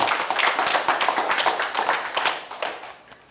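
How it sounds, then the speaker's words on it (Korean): A short burst of audience clapping at a lecture on independence-movement history, many hands clapping together densely and close, tapering off near the end with no speech over it. "동의하시면 박수 한번 쳐주십시오"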